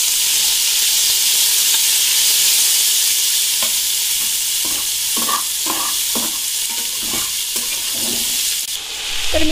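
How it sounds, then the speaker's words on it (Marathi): Sliced capsicum, carrot and shredded cabbage sizzle in a hot pan for Chinese noodles, a constant bright frying hiss broken midway by a series of scraping stirs of the spatula against the pan. "इथे आपल्याला शिमला मिरची आणि गाजर थोडं फ्राय होऊ द्यायचं आहे"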